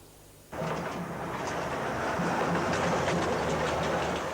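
An Ecuador tourist autoferro train rolls along the rails, its steady rumble and rattle kicking in abruptly after a brief quiet moment and holding loud and close throughout.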